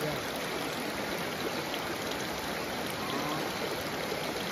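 Continuous broadband rushing of water flowing from a mountain spring, steady and unbroken, fairly close with no pauses or voices.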